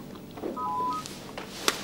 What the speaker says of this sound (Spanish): Es un mensaje de texto.